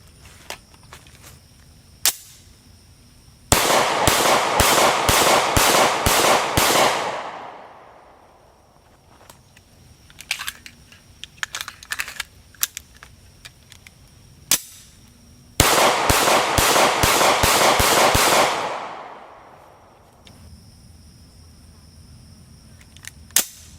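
A Remington R51 Gen 2 pistol fires Fiocchi ammunition in two sharp, rapid strings of shots, each followed by a fading echo. Scattered single shots and mechanical clicks come between the strings.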